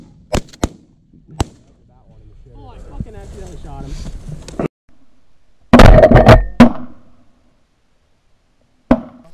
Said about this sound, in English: somebody just shot like a gadwall or something